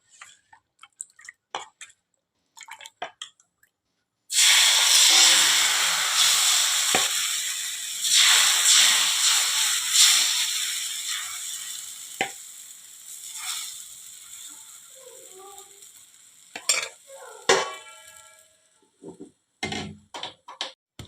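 Oats dosa batter hits a hot griddle greased with sesame oil and bursts into a loud hiss that slowly fades, preceded and followed by sparse clicks and taps of utensils.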